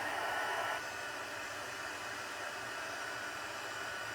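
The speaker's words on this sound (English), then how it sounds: "That way your heat gun stays hot and ready for you to use." A heat gun blows with a steady, close airy roar that stays constant throughout, slightly louder and brighter in its first moment, and no one speaks over it.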